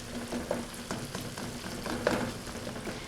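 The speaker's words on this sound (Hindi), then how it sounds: "इसको हमने मज़ीद थोड़ा सा इसमें मिक्स कर लेना है।" Melted tomatoes are stirred in a pot, a soft close sizzle with scraping strokes of the spoon at an irregular rhythm.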